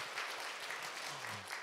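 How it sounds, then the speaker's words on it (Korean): A church congregation at a Wednesday mothers' prayer meeting applauds, a brief, even patter of many hands clapping at moderate distance in a reverberant hall. "우리 햇세대에게 다시 한번 격려의 박수 부탁드립니다."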